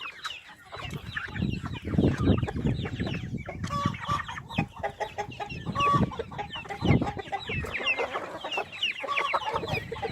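A flock of chickens clucks continuously and close by, overlapping murmurs and sharper clucks filling the whole stretch without any speech.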